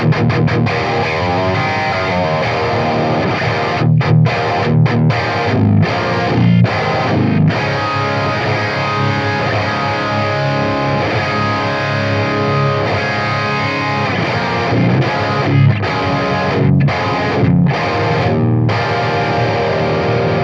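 An electric guitar played through the BIAS AMP 2 amp simulator with presence turned all the way up gives a thick, distorted, sustained tone. The chords ring continuously and loudly with a few short breaks, and no one speaks over them.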